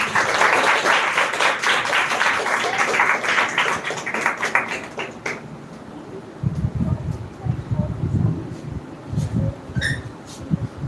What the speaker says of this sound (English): So please clap for him.